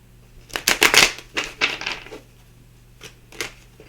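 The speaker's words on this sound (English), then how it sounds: "Give this a shuffle." Tarot cards are shuffled by hand in several quick riffling bursts, crisp and close, with short pauses between each pass.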